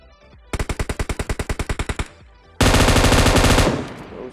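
Video game gunfire during a squad fight in an apartment: a rapid burst of about fifteen evenly spaced close shots, a brief pause, then a dense continuous automatic volley that cuts off.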